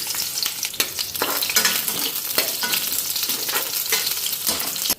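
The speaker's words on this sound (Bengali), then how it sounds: "তো ওইদিকে কড়াইতে তেল দিয়ে দিলাম," Sliced eggplant fries in oil in a wok, giving a loud, steady crackling sizzle broken by repeated scraping stirs, close and with no talking.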